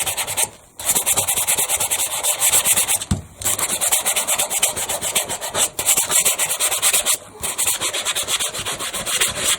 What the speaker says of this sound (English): I'm just trying to sand more of the pattern off here